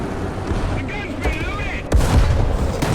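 A British Tiger tank's cannon fires in War Thunder, a sharp loud boom near the two-second mark over steady engine rumble and in-game noise, with a brief voice and whine earlier.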